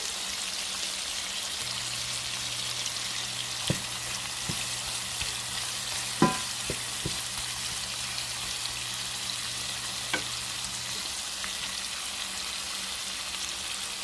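Spaghetti noodles frying and browning in a pan for homemade lo mein, a steady soft sizzle with a few faint utensil clicks and taps against the pan, no voices.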